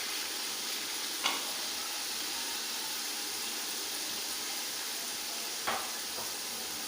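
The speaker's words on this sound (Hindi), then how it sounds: "इनको थोड़ी सी देर 10 सेकंड के लिए फ्राई करना है, ताकि इनकी खुशबू और टेस्ट बन जाए।" Spices fry in a pan with softened tomatoes, giving a steady, close sizzle throughout, broken by two faint, brief scraping stirs.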